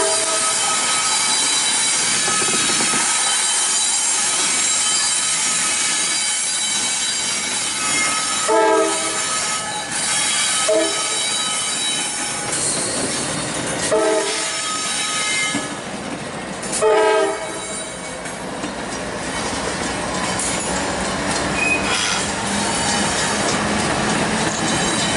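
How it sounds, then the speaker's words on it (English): A freight locomotive pulls cars into a rail siding at Yemassee, South Carolina, with a steady loud rumble, intermittent wheel squeals and clanks, and a horn, sustained throughout with no talk. "Pulling some cars up to interchange with the Port Royal Railroad."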